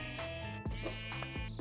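A sheep bleats in Minecraft, with a few short nasal cries repeating close and clear over a quiet background.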